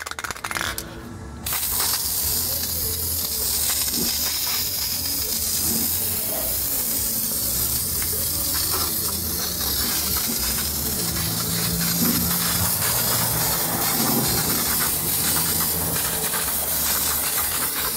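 Rust-proofing grease sprayed over a vehicle frame, a loud continuous hiss that runs nearly unbroken after a brief softer start.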